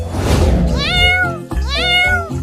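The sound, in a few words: kitten meowing while drinking milk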